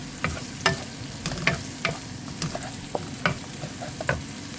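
Onion frying in sesame oil while being stirred, a steady sizzle with repeated sharp scraping clicks from the utensil at an irregular rhythm, close and moderately loud.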